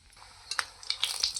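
Oil sizzles softly and steadily as spices are tempered for medu vada, with a few sharper crackles and pops toward the end, close by.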